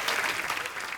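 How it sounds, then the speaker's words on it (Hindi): A studio audience at a comedy talk show claps loudly and densely for a guest's entrance, a full burst of applause filling the whole second. "आप सबकी जोरदार तालियों के बीच बुलाना चाहूंगा very talented versatile actor, one and only mister Paresh Rawal साहब।"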